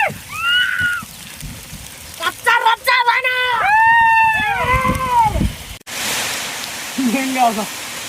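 Heavy rain in the Palakonda hills, Kadapa, hisses steadily in the background while several people talk loudly and excitedly over it; the downpour grows more prominent near the end.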